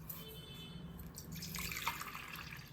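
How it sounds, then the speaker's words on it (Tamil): Water runs and splashes into a cooking pan holding two cups of sugar, a soft steady pour that grows a little louder and fuller partway through, with no talking. "இப்போ தண்ணியும் இதில் ஊற்றிடலாம்."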